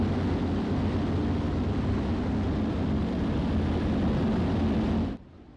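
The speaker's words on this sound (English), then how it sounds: "It's a beautiful flyby of the field presented by K2 Motorsports" Aircraft passing over a dirt racing field at a senior racing championship, a loud, steady broadband engine roar that holds for about five seconds before cutting off abruptly.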